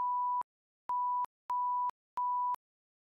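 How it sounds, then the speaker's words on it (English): Four short bleep censor tones from a GoXLR audio mixer, each a clean steady mid-pitched beep of under half a second, separated by brief silences, heard alone. "Now the bleep is for like when you want to do this right here"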